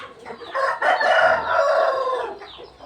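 A Pa Koi gamecock weighing 2.8 kg crows nearby, one full drawn-out call with a short lead-in, loud and clear with little else around it.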